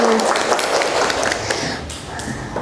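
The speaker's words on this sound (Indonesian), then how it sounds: "Yes, tepuk tangan." Training-session audience clapping their hands together, a busy spread of many claps that stays fairly loud before easing off slightly, with voices mixed in underneath.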